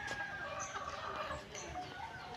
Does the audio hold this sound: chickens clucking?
yes